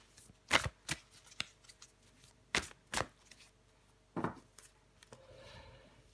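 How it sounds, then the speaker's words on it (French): Tarot cards are shuffled and drawn by hand in short, crisp riffling bursts, several separate flurries with quiet pauses between them, close and fairly soft. "Allez, je prends encore une carte pour vous"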